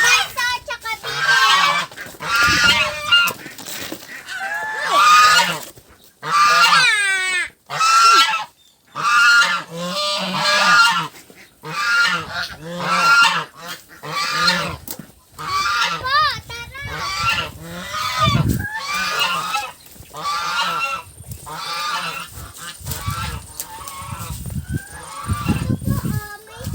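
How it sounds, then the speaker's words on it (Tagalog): Geese honking loudly and repeatedly nearby, a noisy flock calling over one another, with occasional voices mixed in. "Ito po, madami pong gansa"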